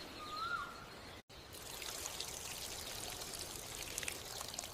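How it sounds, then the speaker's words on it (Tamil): Water is poured onto garden plants at evening: a steady, soft rushing hiss runs on after a brief pause, with birds chirping faintly in the background. "மாலையிலையும் கொஞ்சம் தண்ணீர் ஊற்றணும்."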